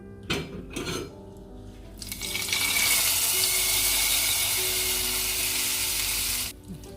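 Hot mustard-seed tempering hits a bowl of carrot pachadi for a Kerala sadya, bursting into a loud, steady sizzle that holds for several seconds before cutting off, with a few clinks of the pan beforehand.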